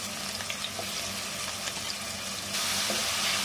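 Onions and green chilies frying in a pan for a spicy beef curry with button mushrooms, a steady close sizzle with faint stirring that swells louder toward the end.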